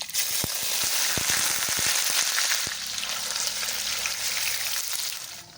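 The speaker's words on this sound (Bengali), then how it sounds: "তেলটা গরম হয়ে আসলে আমি এর মধ্যে একে একে সব পনিরগুলো ভালো করে ভেজে নেব" Paneer pieces fry in hot white oil in a kadai, a loud, close, continuous sizzle with a run of sharp clicks and taps early on before the hiss settles.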